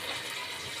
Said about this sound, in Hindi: अब हम इसमें 1 गिलास पानी का डाल के